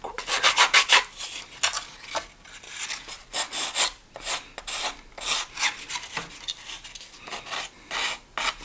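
Rapid rasping strokes of a sanding block on wooden edges of a micro RC model kit, coming in quick bursts with short pauses, close and fairly loud.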